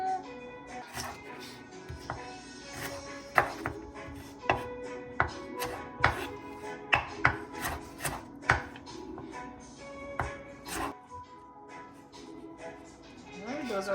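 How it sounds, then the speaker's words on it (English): A knife chops carrots into julienne strips on a board, giving a series of sharp, close taps in an uneven rhythm, with a person talking intermittently. "those are nice julienne carrots"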